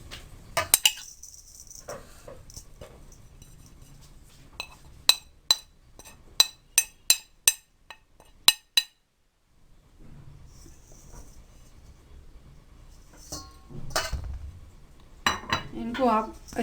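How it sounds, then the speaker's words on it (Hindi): Flour, cornstarch and dry spices mixed in a bowl with a spoon, heard as a run of sharp, evenly spaced clinks against the bowl, then a quiet pause and softer scraping and knocking. "इनको आप अच्छी तरह से मिक्स कर लें।"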